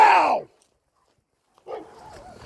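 A dog gives a loud bark, then after a second of silence a softer whining, yelping sound follows close by.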